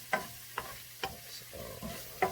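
Balbacua, a Filipino beef oxtail, knuckle bone and feet stew, is stirred in a pot with a few distinct scraping knocks of a spoon over a soft low sizzle and simmer.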